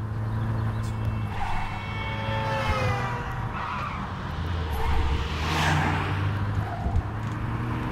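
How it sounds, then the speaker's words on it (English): Cars driving and skidding in the video game Blind Drive, engine drones shifting pitch while tires squeal in several loud bursts, close and continuous with no talk. "Man, avoiding these cars."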